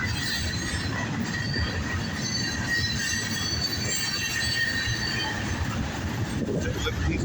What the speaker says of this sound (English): That freight train right here,